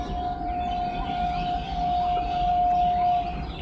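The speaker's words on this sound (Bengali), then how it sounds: "ওই দূরে ট্রেন যাচ্ছে, তার আওয়াজ শোনা যাচ্ছে।" A distant train passes across open village fields, heard as a steady low rumble with a sustained horn-like tone drifting over it.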